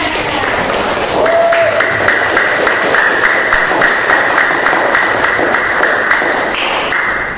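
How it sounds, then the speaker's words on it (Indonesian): A classroom of students applauding together, brisk rapid clapping that swells after the first second and holds steady and loud, with a sustained tone running underneath. "Tepuk tangan semuanya"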